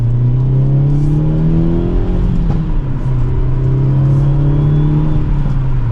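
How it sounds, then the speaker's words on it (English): A 2023 Hyundai Elantra N with a manual gearbox accelerates hard in second gear, its engine note climbing steadily in pitch as a loud, continuous droning rev fills the cabin without interruption. "We got one pop in that upshift, and it's definitely a pretty quick car for that acceleration."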